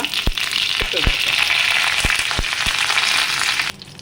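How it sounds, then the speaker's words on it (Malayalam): Mustard seeds fry in oil with a steady sizzle and scattered sharp pops and crackles, close by, running continuously before cutting off near the end. "ഇത് പൊട്ടി വരട്ടെ കടുക് പൊട്ടി കഴിഞ്ഞു ഇനി അതിലേക്ക് പച്ചമുളക് കറിവേപ്പില"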